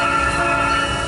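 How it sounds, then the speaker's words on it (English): A locomotive horn in the Trainz 2019 railway simulator blares as one loud, steady sustained chord that fills the entire moment without a break. "push my horn"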